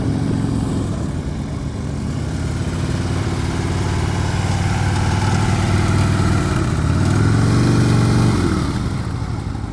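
A motorcycle engine running at a low, steady idle during slow-speed riding practice in Florida, a loud, continuous, close rumble with a slight swell near the end and no talk.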